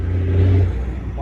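A car hauler truck drives close by on a road, its engine droning loud and steady with a deep rumble as it passes.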